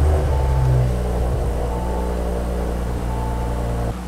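An Audi B9 S4 with its 3.0L V6 TFSI engine idling steadily after starting, a loud, close, even hum with a low rumble that cuts off sharply near the end.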